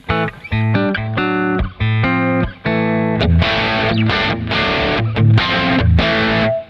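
Distorted electric guitar tone run through a Kemper Profiler amp modeler on the edge of breakup, played as loud sustained chords in bursts with short gaps, then a denser stretch of ringing chords.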